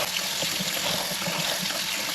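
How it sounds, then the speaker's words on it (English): Steady, close tap water gushes and splashes into a pot as rice is rinsed for Jamaican rice and peas, a continuous running stream with no talking. "Now I'm gonna wash the rice."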